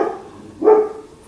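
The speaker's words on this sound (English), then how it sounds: "as soon as I start filming, they start barking" Dogs barking indoors, two loud close barks spaced apart with a short gap, no talking.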